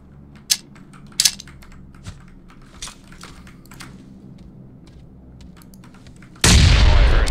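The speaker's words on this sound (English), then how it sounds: "Chuck a grenade down there or something." Grenade explosion in a video game: after several seconds of scattered keyboard clicks and small thuds, a single loud, sudden blast erupts near the end and keeps roaring.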